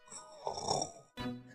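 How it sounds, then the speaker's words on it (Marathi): A sleeping man snores in two heavy, close rasping breaths, one long and one starting just after a short pause, in a Marathi TV drama bedroom scene. "घोरू नकोस प्लीज"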